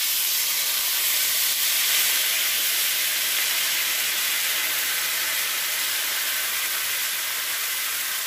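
Bell peppers sizzle in a very hot cast iron pan with bacon fat and butter. A loud, steady hiss holds without a break and no one speaks over it.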